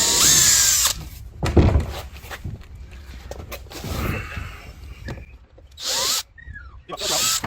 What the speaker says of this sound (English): I can't even drill it.